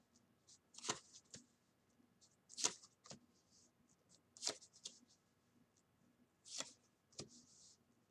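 Tarot cards are shuffled and laid down: several soft, brisk riffling bursts and papery slaps spaced a second or two apart, close and quiet with no voices.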